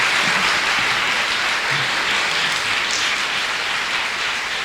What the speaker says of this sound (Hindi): ताली बजाकर प्रभु को महिमा दें।